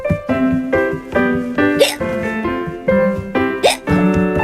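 A cartoon character hiccups over and over in a bouncy run of short, loud gulping hiccups spaced about half a second apart, set against a tuneful musical backing.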